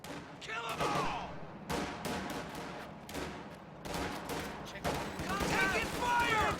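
Battle in a real-time strategy game: dense, overlapping bursts of rifle and machine-gun fire crackle almost without pause, with occasional heavier thuds and shouted voices mixed in.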